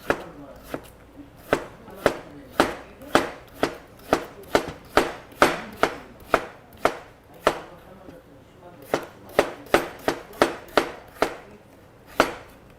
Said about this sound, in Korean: 무를 일단 이렇게 썰어서 반달 모양으로 썰어서 준비해 주시고요